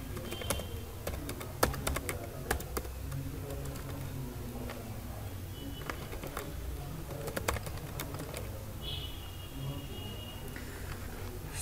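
Keys clack on a computer keyboard while a new Hotmail account form is filled in. The taps come in irregular bursts with pauses, fairly quiet and close, with no talk.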